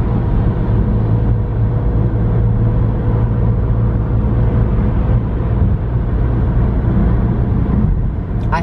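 A Florida car climbs winding mountain roads around Cumberland, Maryland, heard from inside as a steady, loud engine and road rumble that holds for the whole stretch.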